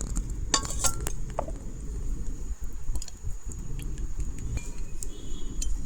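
Spiced raw green mango pickle is mixed with cooled oil in a jar, bright clinks and knocks of a utensil against glass over a low rumbling background, close and irregular.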